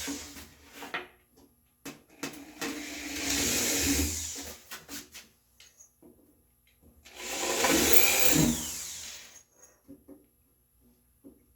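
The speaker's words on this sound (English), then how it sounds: "I'm going to screw these, drill these" Two long bursts of a power drill whirring into walnut boards, each a few seconds, with quieter clicks and handling noises between them.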